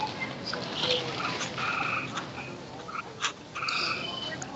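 A frog croaks in a series of short, buzzy calls spread over several seconds at moderate distance, over a constant noisy background with no talking.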